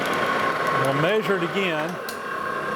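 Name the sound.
lathe taking a light cut on a safe dial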